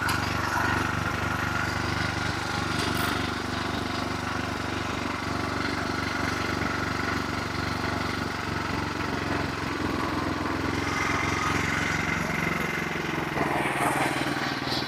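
A clutch-system power tiller runs in reverse gear on a farm in West Bengal, its engine droning loud and steady throughout with a slight rise near the end.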